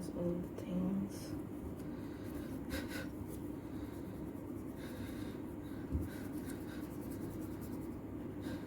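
Pencil sketching a face on paper, soft intermittent scratches and rubs of graphite against the sheet, faint and close beneath a quietly speaking voice.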